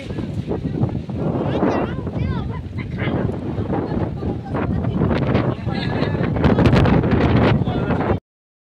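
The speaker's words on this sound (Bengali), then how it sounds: "প্রচন্ড হাওয়া এখানে, দেখো" Strong wind buffets the microphone with loud rumbling gusts while people talk.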